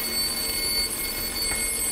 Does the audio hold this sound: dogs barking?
no